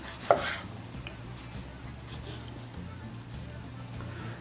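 A knife chopping tomatoes on a cutting board for a Turkish oven-baked meatball vegetable stew, with a sharp chop near the start, a softer one later and another at the end over a low background hum.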